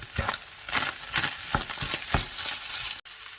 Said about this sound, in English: Hard vegetables cook for a few minutes with the meat